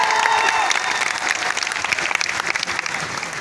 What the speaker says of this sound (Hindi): मैं चाहता हूं एक बार जोरदार तालियां शंभू के सम्मान में